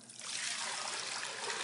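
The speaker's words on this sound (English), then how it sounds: "we're going to add 8 cups of water" Water pours steadily into a pressure cooker, a continuous bright splashing trickle that swells in the first moment and then runs on evenly, close and moderately quiet, with no talking.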